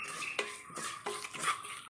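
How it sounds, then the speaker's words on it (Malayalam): A spoon stirs a pot of rasam mixture with roasted, ground fenugreek added, making soft metallic scrapes and clinks in a few quick strokes, close and fairly quiet. "ഒന്ന് മിക്സ് ചെയ്ത് കൊടുക്കാം"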